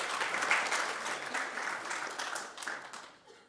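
Applause from an audience at a talk, fairly soft and distant, a dense patter that fades gradually toward the end.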